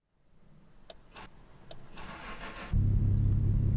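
A car engine cranks and catches in the video game Mon Bazou, preceded by a few clicks and a rising whir, then settling into a loud, steady low idle close by.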